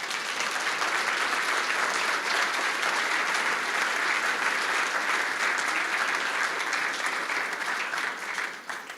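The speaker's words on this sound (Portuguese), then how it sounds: "Você pode aplaudir a Jesus?" A church congregation at Igreja CCR Vila Alzira breaks into dense, sustained applause, a loud, even wash of many hands clapping together that fades slightly at the end.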